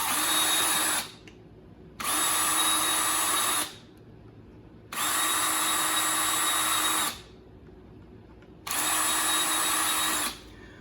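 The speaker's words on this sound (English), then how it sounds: "Okay, now I have my 4 holes drilled." A power drill boring holes in a model train chassis runs in four sustained bursts of high whine, each a second or two long, separated by near-silent pauses, close and loud.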